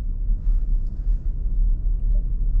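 Jeep creeping slowly through a parking lot, a low steady engine rumble heard from inside the vehicle with no talking.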